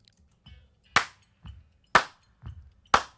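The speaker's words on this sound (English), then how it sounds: "Claps here. There's a few different types of claps in this one." Isolated handclaps from a multitrack stem, three sharp bright claps about a second apart, each preceded by a softer, duller clap, alone and crisp against near silence.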